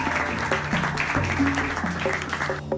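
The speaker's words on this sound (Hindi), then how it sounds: "सरपंच की ये झूठी बातें सुनकर सारे लोग ताली बजाने लगते हैं" Villagers clap together at a rural gathering, a loose burst of applause heard under and between spoken voices, with some tonal voice sounds running through it.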